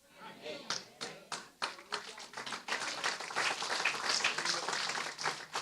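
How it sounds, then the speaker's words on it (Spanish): Scattered hand claps quickly swell into steady applause from a crowd, with voices talking underneath. "Usted aplaude"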